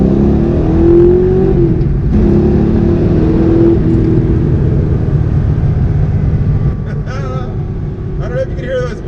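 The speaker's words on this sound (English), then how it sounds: "we'll do a couple accelerations in the car" Fox Body Mustang with 15-year-old FlowMaster mufflers, heard from inside the car with the windows up, droning and rising in pitch as it accelerates, loud and steady, with a voice speaking over it.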